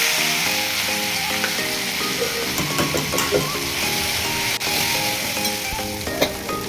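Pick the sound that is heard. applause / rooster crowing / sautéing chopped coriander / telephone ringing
sautéing chopped coriander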